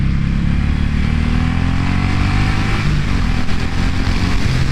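A 2018 Suzuki Boulevard M109R B.O.S.S. cruiser motorcycle accelerates under a rider, its deep, loud engine drone steady and continuous with rising pitch throughout, no talk over it.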